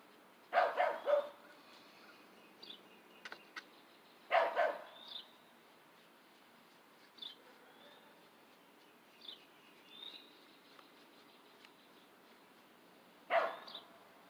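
A neighbor's dogs bark outdoors in several separate bursts at moderate distance, with quiet gaps between them and faint bird chirps in the background.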